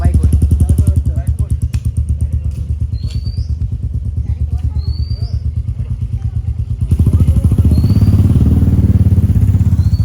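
A motorcycle engine thrums loudly and close, idling in a rough steady beat before revving up harder near the end.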